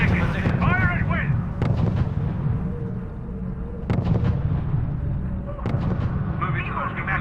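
Heavy artillery booms in the WWII strategy game R.U.S.E. during Operation Market Garden, with a few sharp blasts standing out over a constant rumble of battle while radio voices talk throughout.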